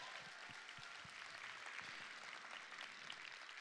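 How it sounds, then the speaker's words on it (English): A church audience claps for a singer after her song, a soft, distant patter of applause with a few sharper individual claps standing out early on. "Can we give her another round of applause?"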